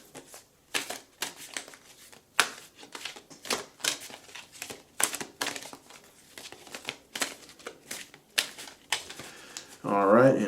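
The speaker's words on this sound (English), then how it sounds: "We're gonna shuffle first." Repeated crisp riffling and slapping of tarot cards being shuffled, in quick irregular bursts, with a louder rustle at the end.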